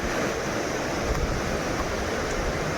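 Floodwater rushing after heavy monsoon rain in the Konkan, a dense, steady roar that fills the whole stretch without pause or voices.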